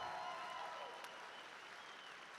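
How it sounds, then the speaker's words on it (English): Faint, steady applause from a crowd watching a sword-cutting competition finals, a continuous distant patter of clapping with little variation. "give the competitors another round of applause"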